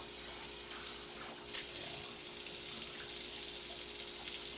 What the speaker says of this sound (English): it doesn't hurt to do a little double rinse